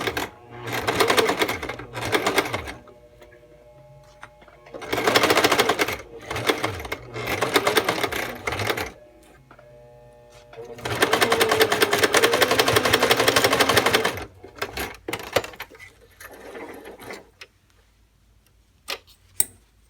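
A sewing machine stitches a skirt waistband in several bursts of fast, rhythmic running, some short and one long, separated by pauses, close and fairly loud with no talking.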